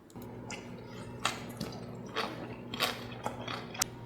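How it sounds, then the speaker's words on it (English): Close, wet crunching as a crispy pork belly wrap with Celtus salad is bitten and chewed, several irregular bites and squishes with no talking. "Listen to that crunch."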